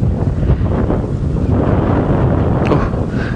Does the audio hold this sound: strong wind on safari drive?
yes